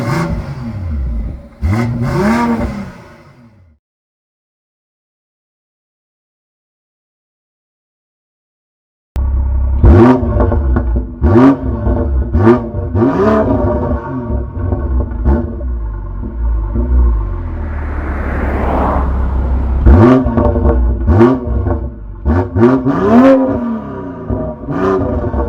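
A BMW M340i G20 B58 engine, flashed with MHD and JB4, revs up and down in repeated bursts with popping, crackling exhaust, after a short rev and several seconds of silence.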